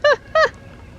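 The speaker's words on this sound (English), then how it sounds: "The rooster is really talking over there right now." A rooster crows twice in quick succession, each call a short, strained harmonic cry with a falling pitch, fairly close and clear over a quiet background with no talking.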